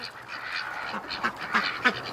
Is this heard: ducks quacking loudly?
yes